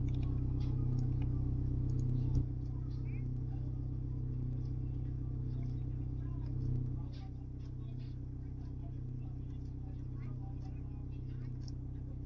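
Steady car engines idle and hum in the Roblox game Brookhaven as drag racers line up, a continuous low drone that drops slightly in level partway through, with faint clicks over it.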